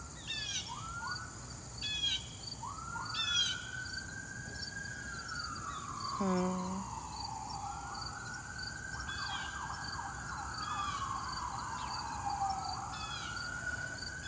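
A few short, sharp blue jay calls ring out over distant wailing sirens that rise and fall steadily through the background.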